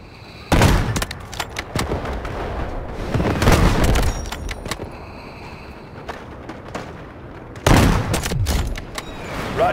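Artillery barrage in the shooter game Delta Force: heavy booming blasts and crackling gunfire, with loud impacts near the start, around the middle and again near the end, rumbling between them.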